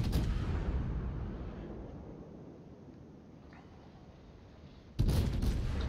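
Heavy naval cannon fire from a Des Moines cruiser in a naval warfare video game, booming at the start, then a long rumbling decay before another loud salvo erupts near the end.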